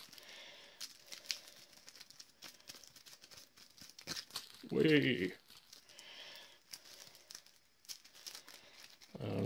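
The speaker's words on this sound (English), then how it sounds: "We'll just shuffle these back in." A deck of Arkham Horror LCG game cards is shuffled in one brief, crisp riffle of papery crackle at a table, with a voice talking before and after.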